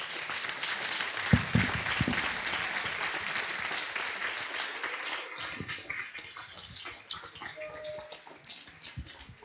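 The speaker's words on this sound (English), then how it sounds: "let's give a big applause to both speakers." Audience applause for two speakers at an academic session, a dense burst of clapping that gradually thins and fades over several seconds.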